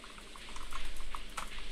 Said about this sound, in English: There was like a water sound.